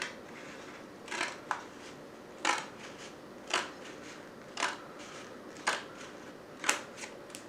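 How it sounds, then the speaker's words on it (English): Scissors cut through cardboard in crisp, evenly spaced snips, about eight of them, close by with quiet pauses in between. "now we have to take our scissors and cut down one of the seams"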